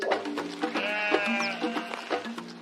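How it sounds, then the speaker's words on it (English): Sheep bleating close by, brought in as a companion for an orphaned rhino calf; several wavering, drawn-out bleats overlap in quick succession over a steady background. "introducing sheep as companions to both rhino calves and baby elephant"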